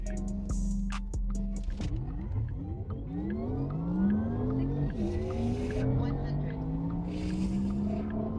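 A Porsche Taycan 4S on winter tyres launches from a standstill in Sport Plus launch control, its electric drivetrain whine climbing steadily in pitch over several seconds, loud and close, with tyre noise underneath.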